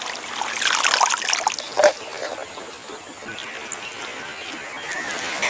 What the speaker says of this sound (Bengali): এবার জল পাল্টিয়ে পাল্টিয়ে 6 থেকে 7 বার ধুয়ে নিতে হবে।